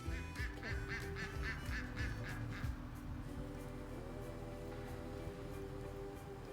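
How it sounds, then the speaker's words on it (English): A duck quacks faintly in an early spring garden, with a run of rapid quacks and honks near the start over a steady outdoor background. "I can imagine Sweet Pea Duck is just telling his wife all about the beautiful day out here."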